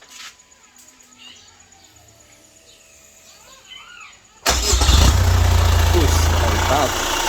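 A Chevrolet Captiva FL diesel, left dead for six years and with no exhaust fitted, cranks and fires abruptly, then settles into a loud, rough, steady idle close by after a quiet stretch of faint background noise.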